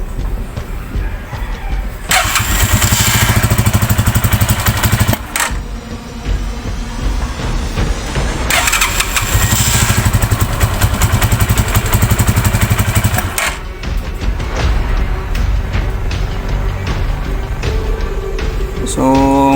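A motorcycle engine that keeps stalling is restarted and runs loudly, revving in long surges with brief dips in between and a clattering idle. A voice speaks over it near the end.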